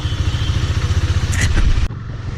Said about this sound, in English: this is the first ride on this bike. I hope everything goes fine, and let's hit the road.